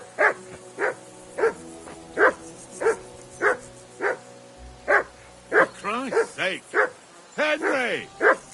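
Dog in Kingdom Come Deliverance II barking repeatedly in steady single barks, then breaking into rising, whining yelps toward the end, close and loud with no talk over it.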